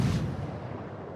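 A single heavy boom of naval artillery fire in World of Warships, loud and close at first and then decaying into a rumbling tail.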